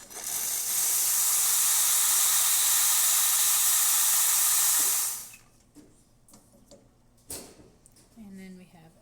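A Bezzera BZ40 espresso machine's steam wand blasts a loud, steady hiss for about five seconds, then cuts off abruptly, leaving quiet clicks and small handling noises.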